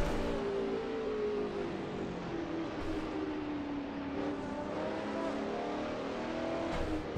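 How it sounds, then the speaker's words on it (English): An old Ford GT Falcon touring car pulls out of the pit lane at Lakeside Raceway in a classic Aussie racing game. Its engine drones steadily and fairly loud, the pitch rising and falling throughout. "We've got a old GT Falcon is coming out the pits there"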